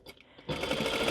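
A sewing machine stitches an adult-sized minky blanket, starting with a few faint taps before breaking into a loud, steady whirring run that continues to the end.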